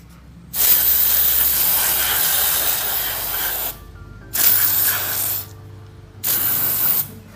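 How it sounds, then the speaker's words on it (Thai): Cleaning spray blasted onto a gun's mechanism in three loud, close bursts, one long hiss followed by two shorter ones, with brief pauses between. "มันเป็นสเปรย์ชะล้างนะครับ"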